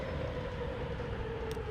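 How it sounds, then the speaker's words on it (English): A passenger train pulls into a station in the simulation game Transport Fever 2, giving a steady low rumble and rolling wheel noise that runs throughout with no talk over it. "Oh, passenger trains coming in."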